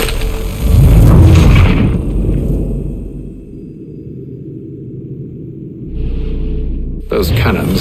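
Cannon fire booms in the video game Assassin's Creed III Remastered, a heavy deep blast followed by a lingering low rumble that fades, with another burst near the end.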